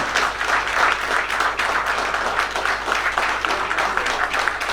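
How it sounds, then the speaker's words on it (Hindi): Loud, sustained audience applause at the inauguration of the National Federation of Retired Insurance Field Workers of India, a full hall clapping steadily and densely throughout with no talk. "हाँ तालियों के साथ जोरदार तालियां।"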